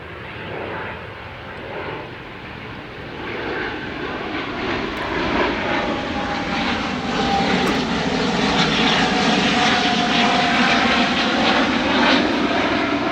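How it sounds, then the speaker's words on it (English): An airplane passes overhead outdoors, its engine drone swelling from moderate to loud and holding as a steady, broad roar for the whole stretch, with no talking. "The plane I was talking about."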